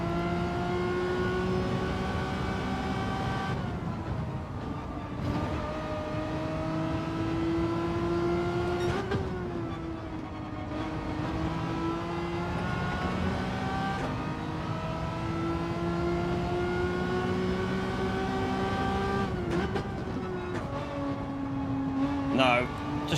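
Toyota GR.4 race car in Gran Turismo 7, its engine droning steadily with rising revs and gear-change dips over about 23 seconds, loud and continuous beneath ongoing talk.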